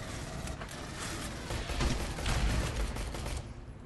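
Rapid pistol fire in Aliens Colonial Marines, the magazine emptied almost instantly: a quick run of sharp shots merging into a dense clattering burst, fairly faint overall and ending abruptly.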